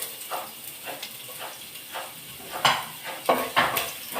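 Crushed ginger and garlic fry in oil left from frying chicken, a steady close sizzle with a few scrapes and clinks of a spoon against the pan, getting louder toward the end; no one speaks.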